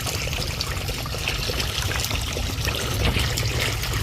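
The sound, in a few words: water being released, trickling into a frog pond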